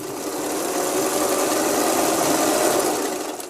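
A hand-crank sewing machine converted to run on an electric motor hums and whirs steadily at close range, a continuous dense mechanical drone with a faint rapid rattle while it stitches zig-zag embroidery, with no voices.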